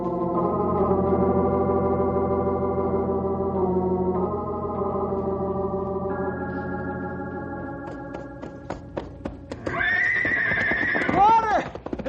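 Horses whinny loudly in long, drawn-out calls, followed by a shrill neigh near the end, with hooves clopping underneath.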